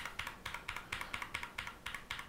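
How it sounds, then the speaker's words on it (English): The delete key on a computer keyboard is pressed repeatedly in quick, regular taps, about five per second, each a crisp close click with nothing else behind it. "I'm going to start hitting delete the minute my keyboard lights up here"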